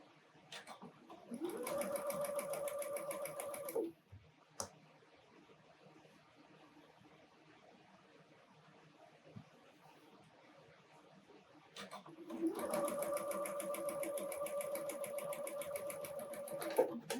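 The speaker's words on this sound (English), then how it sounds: "I'm going to sew along this top edge" A sewing machine stitches along the top edge of a fabric snowman appliqué, running in two steady whirring bursts of a couple of seconds each, close and clear, with a quiet stretch and a few soft handling clicks between them.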